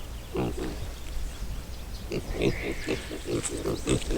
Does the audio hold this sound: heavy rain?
no